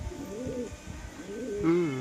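A domestic pigeon being flown from a home loft gives close, low cooing calls, two or three rolling coos with a stronger one near the end.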